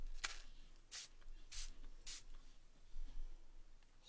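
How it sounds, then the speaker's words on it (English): Ranger Dylusions spray ink is spritzed onto paper in three short, airy hissing bursts spaced about half a second apart, close and fairly quiet against a soft room background. "we're gonna spritz. I'm not getting a very even spray on here."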